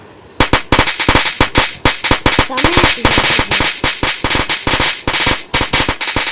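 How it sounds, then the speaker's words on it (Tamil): Rapid strings of sharp firecracker bangs crackle in a video game, loud and dense like machine-gun fire, with a brief voice heard among them. "நம்ம கீழே வச்சு வெடி பண்ணோம் கைஸ்."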